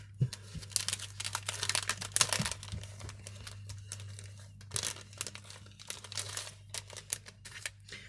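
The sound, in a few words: opening a packet of vintage paper tags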